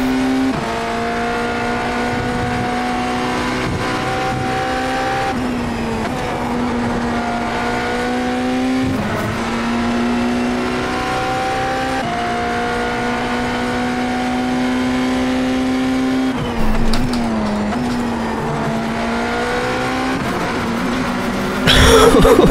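BMW M Hybrid V8 LMdH prototype race car engine in iRacing, a loud sustained whine that climbs and drops through gear changes across the stretch, steady and close with no talk.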